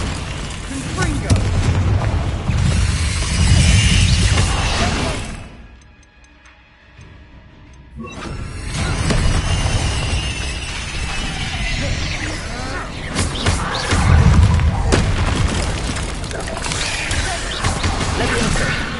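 Confringo blasting spells cast in the Hogwarts Legacy video game, bursts of booming explosion mixed with game effects and music, with a quiet gap midway, under spoken spell incantations.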